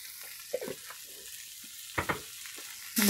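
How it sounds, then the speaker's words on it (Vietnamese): Soybeans frying in a pan, seasoned with shiitake mushroom seasoning powder, give a soft sizzle under a few scattered stir clatters, building to a louder burst at the end. "Đậu nành mình sẽ cho vào chảo."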